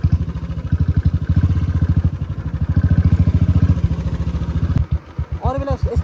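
A Harley-Davidson motorcycle engine with a fault chugs in a loud, rapid, uneven thumping rhythm close by, then cuts out abruptly, and a voice speaks afterward.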